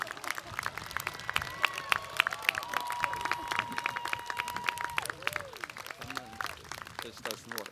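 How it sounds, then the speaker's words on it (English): Audience applause fills a commencement ceremony crowd, sustained dense clapping with scattered cheers and whistles, loud and steady throughout. "Stand up and give your loved ones a big round of applause"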